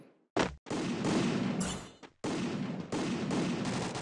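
Gunfire in the video game Free Fire: a sharp shot, then long stretches of rapid automatic fire broken by brief gaps, loud and close, with no talking.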